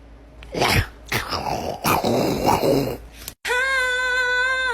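A dog growls and yips in a few short bursts up close, followed by a sudden cut to a sustained high whine.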